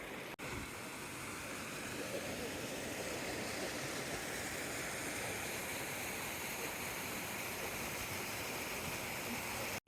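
A small waterfall and stream beside swimming holes on the Salmon River, a steady, full rush of falling and flowing water heard close and continuous with no voices.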